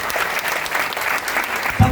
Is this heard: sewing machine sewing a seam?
no